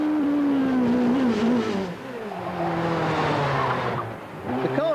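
A hill climb race car screams up a closed public road with fast sweeping bends, its engine revving toward about 11,000 RPM, the pitch rising and falling through gear changes, loud and close.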